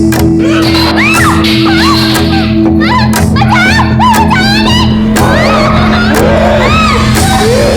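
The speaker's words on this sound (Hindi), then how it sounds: "क्यों चिल्ला रही है?" Someone shouts and yells loudly in bursts during a tense wedding-day scene in a Hindi crime drama, her cries rising over an ongoing voice, with a steady tonal hum underneath throughout.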